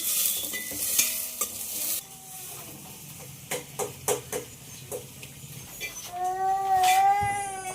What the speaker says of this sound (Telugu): ఉల్లిపాయ పచ్చిమిర్చి అయితే వేస్తున్నాం కదా, మొత్తం బాగా కలిపి చేసుకోవాలి ఫ్రై అంతవరకు